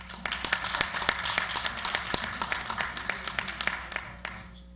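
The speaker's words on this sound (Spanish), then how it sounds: "Un aplauso, por favor" Audience applause at a forum on promoting the Latino vote in a US presidential election: steady, moderately sized clapping from a seated crowd, many overlapping sharp claps that stay even before tapering slightly at the end.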